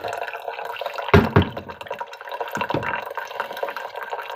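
Water pours and drips during hand coffee brewing, a close liquid trickle with a sharper splash near the start and lighter splashes later.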